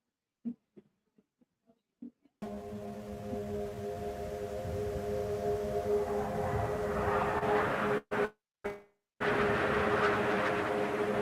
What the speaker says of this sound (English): There's never a night where I don't hear the jet.